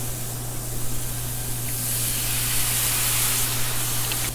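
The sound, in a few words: red wine hissing as it deglazes the hot pan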